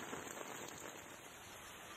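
Heavy rain falls in Tamil Nadu, a continuous even hiss of drops on surfaces, fairly soft and distant, with no voices.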